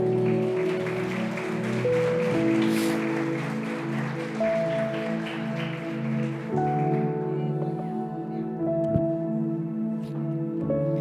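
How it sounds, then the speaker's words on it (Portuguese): A church congregation applauds in a sustained wash of clapping that runs the whole time, layered over steady sustained tones from an organ or keyboard. "Dê um aplauso a Jesus."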